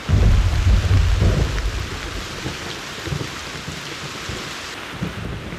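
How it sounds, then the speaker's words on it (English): Deep rolling thunder rumbles loudly over heavy rain at a tarp camp in thick fog and wind, the thunder strongest at the start and fading under a steady hiss of downpour. "We'll listen to the thunder."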